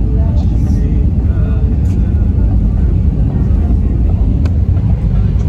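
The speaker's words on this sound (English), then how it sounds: "Finally, we are landing in Sri Lanka." An airliner cabin during landing in Sri Lanka fills with a loud, constant low engine and airflow rumble, steady throughout with no breaks.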